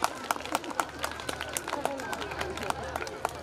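Students at Bharatpur Mabi's annual school function clap in a steady, quick rhythm of sharp, fairly close claps, with a faint crowd murmur underneath for the whole stretch.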